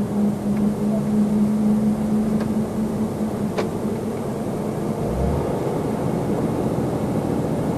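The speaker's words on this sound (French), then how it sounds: "Là, je suis en frein moteur et puis ralentisseur." Heavy truck descending a road in the Basque Country, holding back its weight on engine brake and retarder, giving a steady loud low drone throughout with a brief low rumble swell near the end.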